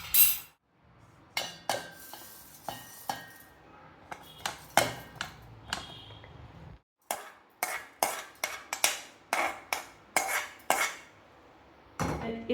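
Toasted sesame seeds for homemade hummus go into a mixer grinder jar: a close run of sharp metallic clinks and rattles, repeated in quick bursts with short pauses between scoops.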